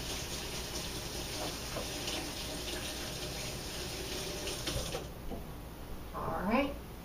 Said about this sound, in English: I'd like to just rinse my hands very quickly here